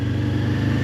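A motorcycle engine runs steadily and close by as the rider eases the clutch out and pulls away from a stop, with a low throbbing rumble that holds even throughout.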